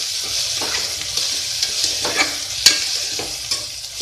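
Cumin, mustard seeds, mint, green chillies and onions fry in hot oil for a mutton curry, a steady close sizzle with occasional stirring scrapes and small pops, no voices.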